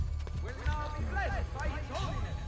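Horse hooves from Assassin's Creed Brotherhood clip-clopping at a steady gallop under ongoing game sound and a chattering voice, rhythmic and fairly close.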